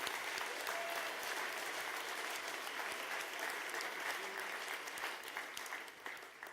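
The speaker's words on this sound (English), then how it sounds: "I think this is worth a round of applause" Sustained applause from the audience at the HackZurich 2017 hackathon closing ceremony, recognising the tech team: a dense, steady wash of clapping that holds for several seconds, then thins out and tapers near the end.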